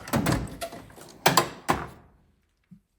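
A drawer rumbles along its runners and closes with a couple of firm thunks, followed by a faint click, close by and with no voices.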